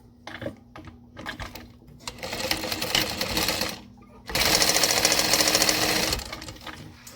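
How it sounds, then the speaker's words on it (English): A sewing machine stitches backpack pieces together with a small quarter-inch seam allowance, running in rapid whirring bursts that speed up and stop, with a loud sustained run near the end, close by. "So these two need to be sewn together here."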